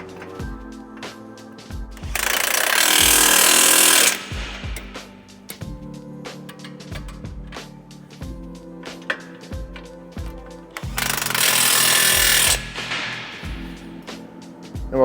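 Power tool bursts tightening the strut nuts on the lower control arm of a Ford F-150 Tremor during a leveling kit install, with two loud roughly two-second runs separated by quieter background noise.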